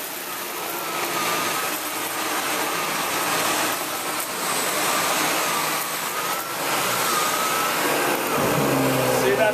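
A Sebo Felix upright vacuum cleaner runs on carpet with a steady, fairly loud motor drone and faint whine, with brief dips in level, while a person talks over it.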